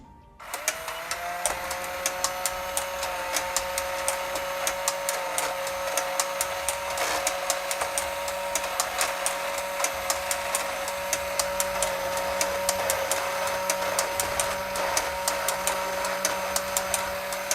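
A Tomy Super Cup toy football game runs continuously with a steady motorized whir and a rapid rattling of plastic parts. The mechanism sounds close and keeps an even level throughout, with no talking.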